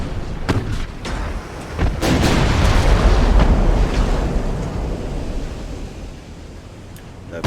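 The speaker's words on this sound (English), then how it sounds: "Love watching those big guns especially go off." Big battleship guns fire in the naval video game Ultimate Admiral Dreadnoughts, a few sharp booms followed by a long, loud rumbling roar that slowly fades.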